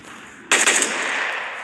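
Automatic gunfire in the mobile shooter World War Heroes starts abruptly after a quiet moment as a loud, rapid burst of close shots that carries on steadily.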